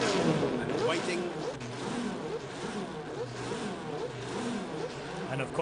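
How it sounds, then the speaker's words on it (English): A Minardi Cosworth Formula One car sits on the start line at the Knysna Simola Hillclimb classic car event, its engine revving in a rough, rising-and-falling roar heard from a short distance over open-air ambience. "The Minardi Cosworth on the line, ready to go."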